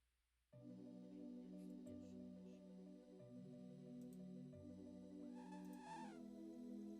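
A kitten meows in the video game Old School RuneScape. The short rising and falling cry comes near the end and sits over steady, layered in-game music.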